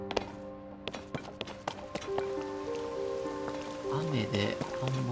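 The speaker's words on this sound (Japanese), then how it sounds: "雨であんま動けなそうだね。" Rain falling in the video game Zelda: Tears of the Kingdom, a steady patter on surfaces with occasional taps and thuds, mixed with game music tones and brief voice sounds.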